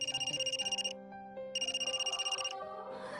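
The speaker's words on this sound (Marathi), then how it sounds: "अगं माझा फोन वाजू राहिला." A mobile phone rings with a bright electronic ringtone in pulsing bursts, pausing briefly and starting again, loud and close with no voices over it.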